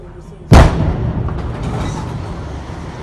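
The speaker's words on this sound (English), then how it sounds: "the bomb was shot, leading to a loud explosion that thundered through the town." A bomb is blown up in a town, making a single sudden loud blast followed by a long rumbling roar that slowly fades.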